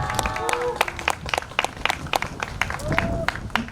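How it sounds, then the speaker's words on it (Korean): Scattered audience clapping welcoming a traditional Korean folk singer, individual claps sounding sharp and uneven against a murmuring room, with voices and a brief tonal whoop or cheer rising above it. "박수로 맞이해주세요"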